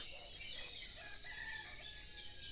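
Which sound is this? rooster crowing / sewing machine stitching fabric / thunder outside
rooster crowing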